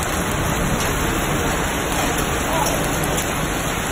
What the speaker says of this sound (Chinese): 现在我们在鱼子居然在下冰雹哎。